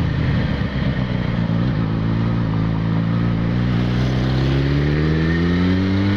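A Yamaha XJ6 motorcycle accelerates hard through a concrete tunnel, its engine note climbing steadily in pitch and echoing loudly, close and continuous.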